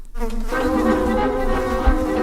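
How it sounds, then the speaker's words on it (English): Flies buzzing close and loud, a steady continuous droning hum with no talking. "I wonder why the flies are buzzing around"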